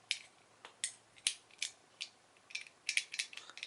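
Capture Camera Clip v2 quick release plate being twisted a quarter turn and locked, a run of small crisp ratcheting clicks, close and quiet, in an irregular rhythm with no voices.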